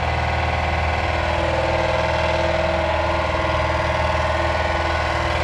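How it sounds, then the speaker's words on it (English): An air compressor runs in a workshop during a 1958 Plymouth restoration, a loud, steady mechanical drone that holds unchanged throughout with no voices. "We're gonna turn the air compressor off."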